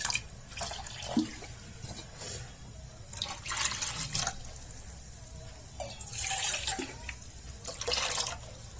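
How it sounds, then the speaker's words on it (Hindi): Water poured into simmering kadhi curry in a pan, heard close and fairly quiet as intermittent splashing pours and trickles with short pauses. "इसमें थोड़ा पानी और डालूंगी मैं,"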